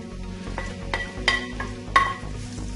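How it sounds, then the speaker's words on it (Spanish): Garlic, with leek to follow, sizzling and frying in oil in a pan while being stirred, a steady close crackle broken by several sharper scraping strokes, with no voices. "Vamos a echar los ajos para posarlo en el aceite."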